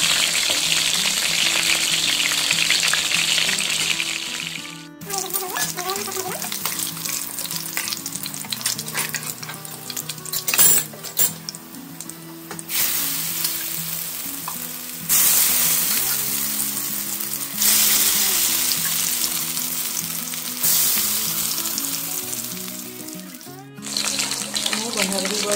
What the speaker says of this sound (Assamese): এডোখৰ এডোখৰ কৰি মই তেলত ফ্ৰাই কৰিম